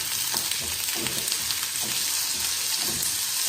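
Onion and tomato frying in hot oil for corn dosa, with a steady, dense sizzle that crackles continuously at close range and no voices over it.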